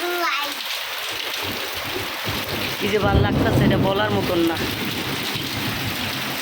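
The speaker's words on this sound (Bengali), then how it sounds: "দেখছেন বৃষ্টির শব্দ আরও বেশি ভালো লাগতেছে" Heavy rain pours over Dhaka in a thunderstorm, a loud constant wash with a low swell midway, as someone speaks over it.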